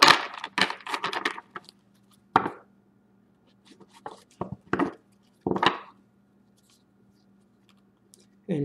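Tarot cards being shuffled by hand, heard as a few close, crisp bursts of riffling and slapping separated by quiet pauses, with no talking.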